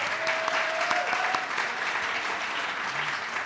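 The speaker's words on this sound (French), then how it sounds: "On peut l'applaudir, tout à fait," A studio audience at a French talk show applauds, continuous dense clapping held at an even level from start to finish, somewhat distant, with a brief tonal sound early on.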